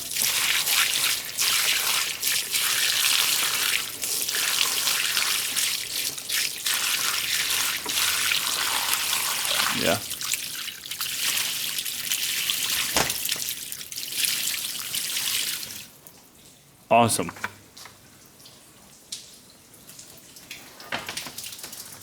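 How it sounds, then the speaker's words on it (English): Water poured over the roof air-conditioning unit of a Mercedes/Dodge Sprinter van splashes and trickles in a steady wash, then thins to scattered drips with a couple of sharp knocks; brief words are spoken near the end. "So we're gonna dump our water here to see if it's gonna leak."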